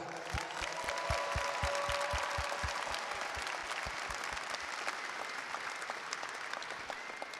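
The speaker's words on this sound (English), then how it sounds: "Students, please give a round of applause to all the Davis staff." A graduation audience at an aerospace and maritime high school claps for school staff, a full, sustained round of crowd applause with some louder individual claps near the start, steady and continuous without speech.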